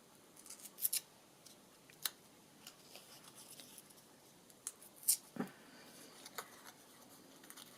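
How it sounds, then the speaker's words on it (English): Scissors snip through paper in a few quiet, sparse cuts, crisp isolated clicks spaced out against a near-silent room. "Just snip off that little bit that's not where I want it to be."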